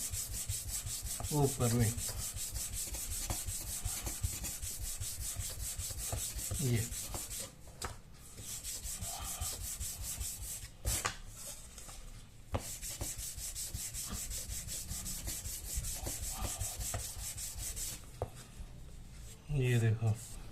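Balsa wood is sanded into an aerofoil wing shape, repeated close rubbing strokes in short bursts, with someone speaking Hindi over and between the strokes.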